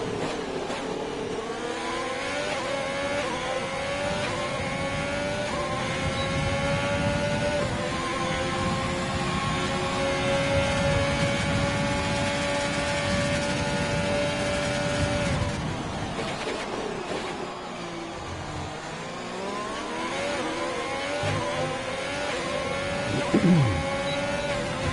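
Racing cars lapping the Bahrain circuit in a racing video game, a steady engine drone with gear-shift pitch sweeps rising and falling over about twenty-five seconds, with a louder car passing near the end.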